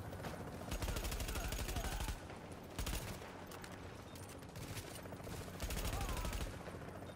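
Bursts of automatic gunfire in The Division's Dark Zone, rapid rattling volleys that start, stop and resume several times, loud against a game backdrop.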